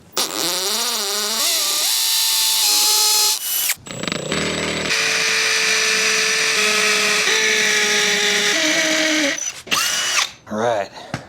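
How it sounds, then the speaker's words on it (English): A power drill fitted with a 3/16 bit drills holes through a house wall for a hose bib. Loud, close whirring comes in long stretches with shifting motor pitch and brief pauses between bursts. "Now drill it with my 3/16 bit."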